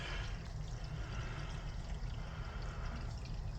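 Tap water runs steadily into a small sink, a continuous close rushing pour with no talking over it.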